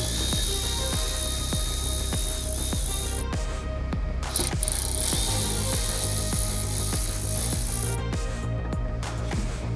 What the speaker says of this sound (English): Using a 7mm socket, we're going to remove the 4 bolts that secure the deck lid panel to the trunk.